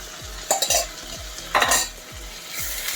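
Spoon stirring curd into vegetables frying in a pot for veg pulao, a few scraping strokes and clinks against the pan over a soft continuous sizzle, close and moderately loud.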